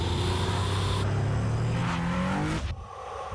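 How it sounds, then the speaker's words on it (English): An Infiniti V-Vel engine revs loudly in a 2009 TV ad, a sustained roar climbing in pitch before cutting off abruptly, with no speech. "The Infiniti V-Vel engine creates more power using less fuel."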